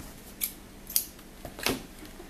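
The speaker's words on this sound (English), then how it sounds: "and then cut our yarn" Scissors snip through crochet yarn in several quick, faint cuts spread over a couple of seconds, with no talking.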